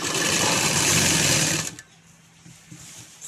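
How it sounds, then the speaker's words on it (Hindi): A sewing machine stitches along the folded edge of net fabric, a loud, fast, even whir close by that stops abruptly partway through, leaving quiet room tone and a few faint handling knocks. "अब हम इसे हटाते हुए नेट के कपड़े को फोल्ड करके इसके किनारे से सिलाई करेंगे।"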